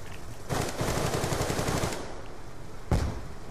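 Scorpion Evo gunfire in Black Ops 2 on the Hydro map: a loud rapid automatic burst of about a second and a half, then a single sharp shot after a short pause.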